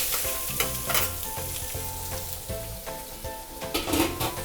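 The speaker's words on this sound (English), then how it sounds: "I'm just gonna add in the shrimp all at once" Seasoned shrimp dropped all at once into hot oil in a skillet, a loud, steady sizzle with bursts of crackle and occasional scraping as the pieces settle.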